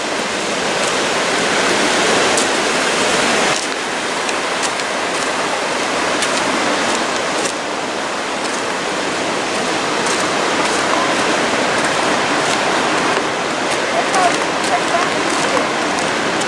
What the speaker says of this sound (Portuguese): Nem que a gente entra debaixo da cachoeira ali, ó